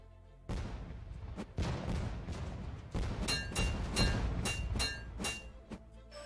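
Repeated bomb explosions in the video game Mirlo Above The Sun, a string of sharp loud booms and thuds spaced irregularly across the stretch, with no talking.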